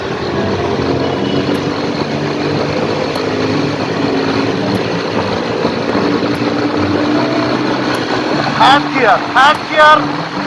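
Suzuki Gixxer motorcycle engine accelerating in third gear on a road ride, a loud steady rising drone with wind roar and a voice talking over it.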